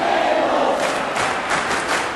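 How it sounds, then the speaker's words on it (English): A wrestling crowd at a UHW TV show in Raleigh chants and roars in a dense, continuous wash of many voices with rhythmic swells, loud and filling the arena. "And now the crowd chanting"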